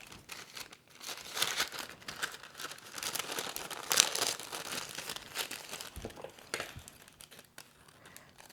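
Parchment paper crinkles and rustles as it is trimmed and handled while lining a pan for Parker House buns, a close, continuous crackling with a sharper crunch near the middle and no talking.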